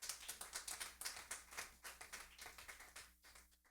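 Applause from a church congregation: a quick run of sharp hand claps, fairly even and close, with no voices over it.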